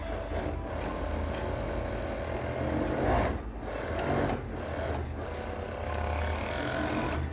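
A sewing machine stitches around the edge of blouse fabric in a fast, steady whirring run, broken by a few brief pauses and restarts, close and clear with no voices.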